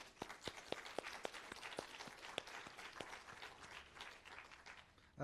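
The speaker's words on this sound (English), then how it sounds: "A round of applause to our panelists" A small audience at an academic panel session gives scattered, faint applause for the panelists, individual hand claps standing out sharply against a quiet room.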